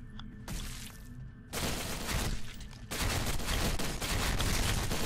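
Gunfire in a survival mod video game comes as dense, loud bursts of rapid shots, with a brief pause and then heavier sustained volleys, and no talking over it.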